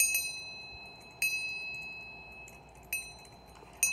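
A small handheld bell gives three sharp, bright rings spaced about a second and a half apart, each leaving a thin lingering shimmer over quiet room tone.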